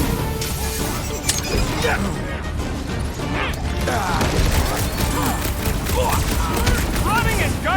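Video game gunfire during a rooftop chase in Guardians of the Galaxy, with dense rapid bursts and crashing impacts running continuously beneath animated character voices.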